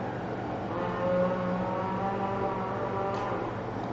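Engine of a 2007 Ford Focus WRC rally car in DiRT Rally 2.0 on a Swedish stage at Lysvik, a steady loud drone with harmonic whine that swells briefly as revs rise, running continuously with no talk.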